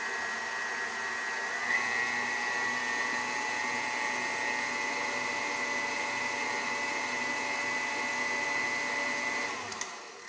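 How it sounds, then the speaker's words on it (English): An electric mixer runs steadily at high speed while beating red velvet cupcake batter in a bowl, a continuous whirring drone that holds level throughout and cuts off near the end, with no talking. "Stop the mixer."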